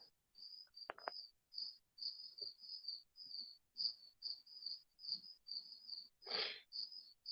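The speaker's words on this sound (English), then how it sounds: "I'm sure that you can hear insects in the background." Steady insect chirping in repeated short pulses throughout, with faint clicks and a brief rustling burst near the end; no voices.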